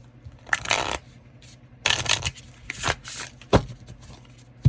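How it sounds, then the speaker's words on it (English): Tarot cards shuffled by hand at close range, with four or five quick rustling bursts separated by short pauses and no talking. "let me shuffle these cards first"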